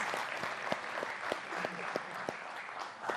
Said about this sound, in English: Let's first give them a round of applause.